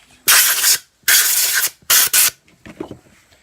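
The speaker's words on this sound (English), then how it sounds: "I'm gonna blow out all the dust." Compressed air blasts dust out of Stihl MS250 chainsaw parts during an aftermarket piston and cylinder rebuild: three loud, close hissing bursts, the first two long and the third shorter and doubled, then quiet rustling.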